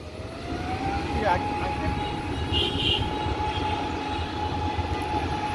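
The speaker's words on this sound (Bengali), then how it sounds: "তো দেখতেই পাচ্ছেন এখন বিমানটি আকাশে উড়ে যাবে।" A passenger airplane at an airport rolls toward takeoff, its engine roar a steady broadband rumble with a high whine, with faint background voices.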